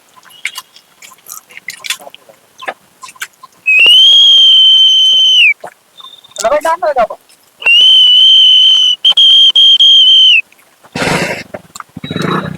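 A voice imitates a traffic police whistle: sustained high shrill tones, then two more long blasts, loud and close, with brief chewing-like clicks and noise around them.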